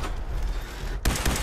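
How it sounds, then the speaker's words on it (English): A grenade blast in Fallout 4 breaks sharply out of a low rumbling combat bed, one close, loud explosion near the end. "This guy's throwing grenades in."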